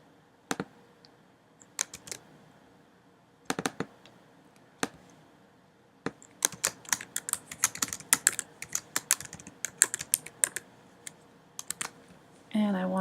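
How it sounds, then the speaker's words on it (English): Fingers type on a computer keyboard close by, first in scattered single keystrokes, then in a quicker run of dense clicking, ending with a brief louder rustle. "I'm going to type"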